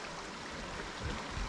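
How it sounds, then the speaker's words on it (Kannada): Spring water welling up from the depths of a clear, deep pool at Albania's Blue Eye, heard as a faint, steady wash of gurgling water with soft low swells, with no voices. "50 ಅಡಿ ಆಳದಲ್ಲಿಂದ ನೀರು ಉಕ್ಕಿ ಬರ್ತಾನೆ ಐತೆ ಬುಗ ಅಂತ"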